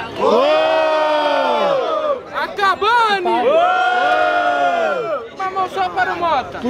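Loud crowd at a student rap battle in Guarulhos, São Paulo, chanting a rapper's name in unison to vote, two long sustained shouts separated by bursts of cheering and hubbub.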